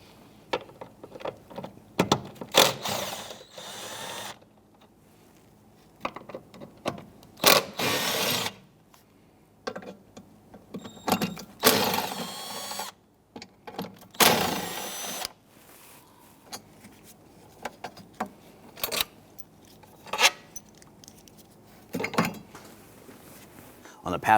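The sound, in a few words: removing 10mm bolts from a Jeep Grand Cherokee cowl bracket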